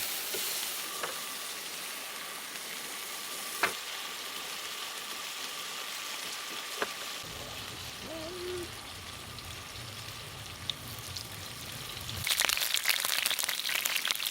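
Sausage and peppers fry in a pan with a steady, even sizzle and crackle and a few sharp pops, then swell louder and busier near the end; no one speaks.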